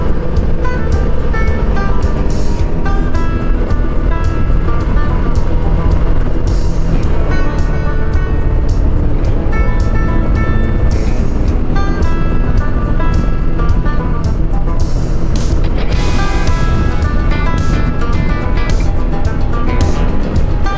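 A motorcycle cruises along Highway 79 in Kentucky on a sunny morning, a loud steady engine drone with heavy wind rush filling the whole stretch, holding an even pace throughout with no voices.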